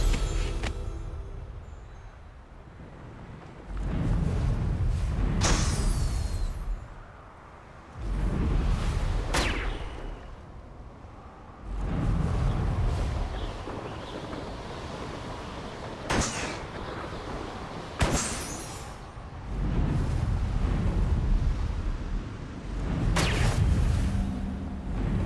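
Confringo blasting spells go off in Hogwarts Legacy, a series of about six heavy, booming explosions spaced a few seconds apart, each a sharp crack followed by a rumbling decay.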